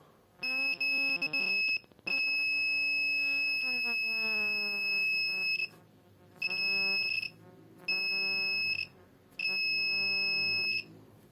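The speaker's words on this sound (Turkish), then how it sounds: "istenilen mesafeye geldiğinde hem ışığı hem de buzzer sesi çalışmakta" An Arduino buzzer triggered by an HC-SR04 distance sensor sounds in long steady electronic beeps, first a sustained tone, then three shorter bursts with pauses between them, loud and close.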